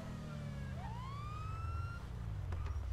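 A police car siren in the video game GTA V wails in a rising and falling sweep, fairly close, over a steady low engine rumble, with a couple of sharp knocks near the end.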